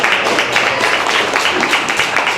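Audience clapping at an outdoor Music Bloom event in Hyde Park, a loud, sustained burst of many hands applauding together, close and continuous with slight swells, no speech over it.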